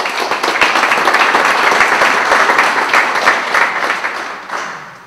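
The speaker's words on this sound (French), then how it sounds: "je vais vous demander d'applaudir Antoine" A conference audience applauds a speaker with dense, steady clapping that holds strong for several seconds before thinning and fading at the end.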